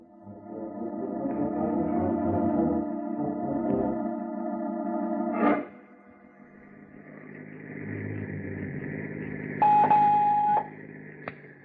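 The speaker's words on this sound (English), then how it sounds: "I shall phone him, Mr. Argyle." A telephone is dialed in an old-time radio drama, a run of short clicks and tones over a steady background hum, with a brief louder click midway and a held tone near the end, no voices.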